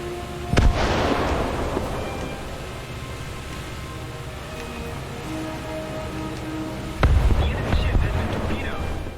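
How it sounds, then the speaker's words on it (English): A torpedo slams into a friendly ship during a War Thunder naval battle involving a Yugumo destroyer: a loud broadband blast opens, a rumbling sea-and-engine bed follows, and a second heavy impact bursts near the end. "I torpedoed my own friendly ship"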